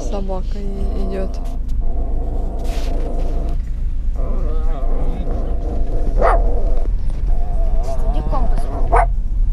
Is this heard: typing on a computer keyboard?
no